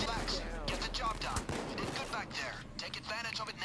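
Gunshots from the video game Payday 2, a dense run of loud, overlapping shots and impacts under game noise, with no clear talking.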